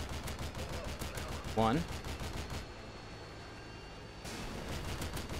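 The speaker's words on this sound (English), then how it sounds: "I do see red dots, red squares, so I'm just gonna start firing." Gunfire in Modern Warfare 2 (2009) as a steady, fast rattle of shots that runs under the game's sound and cuts off partway through, then returns, with a brief voice heard in the middle.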